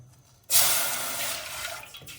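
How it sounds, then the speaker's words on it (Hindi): Water pours steadily into a pot on a stove while tamarind and dried plum sharbat with jaggery is prepared, starting abruptly and running as a continuous splashing stream for nearly two seconds. "2 कप पानी शामिल कर लिए हैं"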